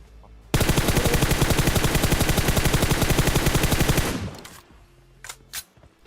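Loud, sustained rapid automatic gunfire in PUBG rattles for about three and a half seconds, then cuts off, leaving a few faint clicks and thuds.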